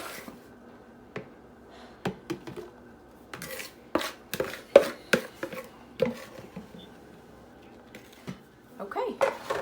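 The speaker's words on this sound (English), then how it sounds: "So now I'm just gonna put this into the jar, and I'm using a spoon so I don't make a big mess" Spoon scraping and tapping as low carb baking mix is spooned into a jar: a series of sharp clicks and knocks in irregular bursts, close and fairly clear.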